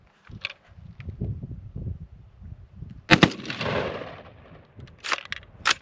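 GAU-5 style rifle fitted with an Atrius Super Selektor firing: a sharp nearby report, a burst of shots with a decaying tail, then a couple more loud cracks, over quieter handling and shuffling noise.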